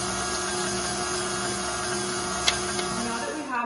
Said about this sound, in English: So let's turn the mixer on.